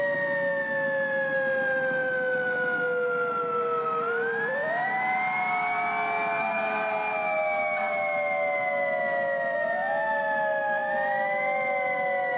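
A fire engine siren wails continuously from a vehicle following close behind the engine, its rising and falling tones overlapping and sweeping steadily for the whole stretch.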